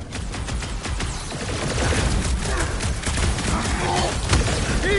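Gunfire in Marvel's Guardians of the Galaxy, rapid overlapping blasts and sharp cracks over a dense combat din, growing slightly louder and continuing throughout.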